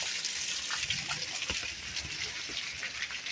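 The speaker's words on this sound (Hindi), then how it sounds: "इनकी छत का पानी भी सारा ये आ रहा है नीचे" Rainwater pours steadily off a neighbour's roof with no drainpipe fitted, a continuous broad splashing gush during heavy rain in Pauri, close and alone.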